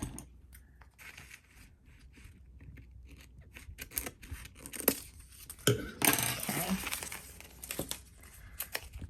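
Scissors cutting paper for an art journal: a series of close, quiet snips and crinkles, sparse at first and busier toward the end, with rustling paper handled between cuts.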